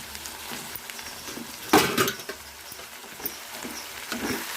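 Chopped tomatoes and guava pieces soften in a hot pan with a quiet, steady sizzle and faint patter, punctuated by a few louder scrapes and knocks of stirring.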